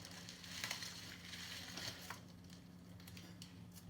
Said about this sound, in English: She's covered in plastic wrapper. Let me put you down for a second so I can unwrap this real quick